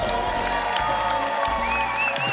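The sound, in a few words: crowd cheering for bronze medalist Gita Michels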